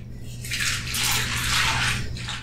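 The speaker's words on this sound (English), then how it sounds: "I'm gonna add just enough water to cover them." Water pours steadily into a pot of beans for a Cajun red beans and rice dish, a continuous close splashing rush that swells and stays loud throughout, with no talking.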